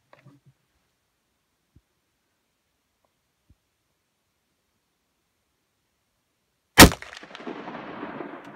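.308 rifle with a 16-inch barrel fires a single loud, close shot after a long quiet stretch, the sharp crack trailing into a few seconds of rumbling echo.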